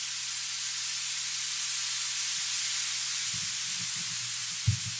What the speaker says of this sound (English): So the white noise falls and builds,